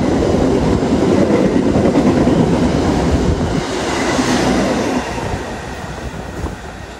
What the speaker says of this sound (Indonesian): Kereta api Argo Wilis dari Bandung tujuan Surabaya Gubeng.